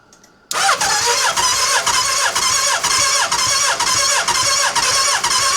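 A Nissan Micra K11 fitted with a Suzuki Hayabusa motorcycle engine cranks with a sudden onset, then a loud, rapid, rhythmic churning starter cycle continues close and steady without settling into a clean idle.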